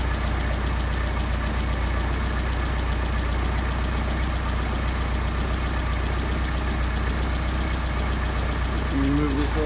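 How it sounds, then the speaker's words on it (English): Mercedes 190SL engine with Solex carburetors idling around 800 RPM, a steady continuous rumble filling the whole stretch at close range, with the idle sagging slightly toward the end. "You can hear the idle dropping off."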